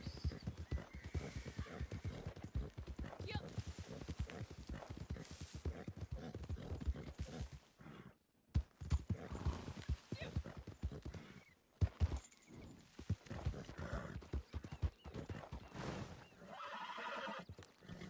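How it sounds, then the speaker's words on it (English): Hooves clip-clop steadily with a horse neighing, game-style audio, a brief gap in the middle, then more hoofbeats and whinnying. "There's a horse."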